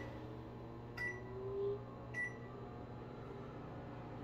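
A GE microwave oven runs with a steady low hum and drone, broken by two short beeps about a second apart and a brief whine, heard close and alone.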